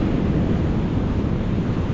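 Ocean waves and gusting wind at a cold beach, a steady loud broadband rush with low rumbling surf and wind buffeting the microphone, no voices.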